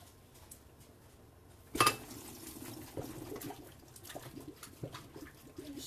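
Cooked noodles shaken in a strainer to drop excess water, giving a sudden splashing burst followed by scattered drips and soft clattering in a kitchen.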